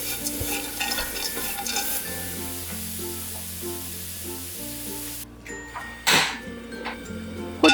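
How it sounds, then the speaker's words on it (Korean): Anchovies stir-fried with mirin over high heat hiss and crackle steadily in a pan with occasional stirring scrapes and a short clatter near the end, close up, while soft background music plays. "불을 켠 후 미림을 넣고 물기가 없어질 때까지 강불에서 볶아주세요"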